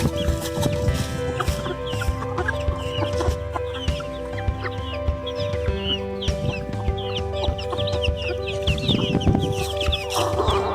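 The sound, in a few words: chickens clucking at feeding time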